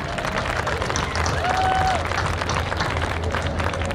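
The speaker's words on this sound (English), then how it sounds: "A big round of applause for our school administration." An audience at a school family and friends presentation gives a round of applause: steady, dense clapping from a crowd indoors that holds for several seconds, with a few voices mixed in.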